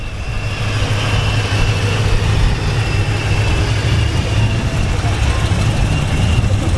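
A modified muffler exhaust on a car at a car meet rumbles loudly and steadily at idle, close by, with a deep low throb throughout and voices talking over it.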